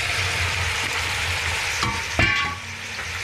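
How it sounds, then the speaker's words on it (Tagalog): Pork pieces frying in a pan for dinuguan, a steady bright sizzle with a low burbling undertone, broken by a couple of sharp clatters of a utensil against the pan near the end. "Pwede na rin natin lalagay yung ating baboy para mag-isa. Para maluto talaga siya."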